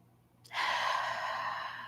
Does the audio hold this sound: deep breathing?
yes